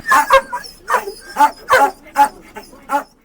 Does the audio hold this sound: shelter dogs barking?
yes